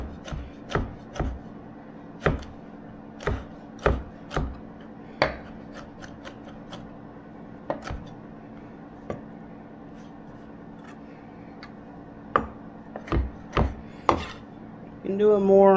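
A knife chops black drum fish on a cutting board in irregular clusters of sharp, close knocks separated by quieter pauses, ending in a quick run of rapid cuts.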